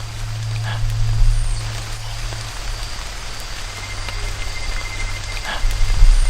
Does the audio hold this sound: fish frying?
no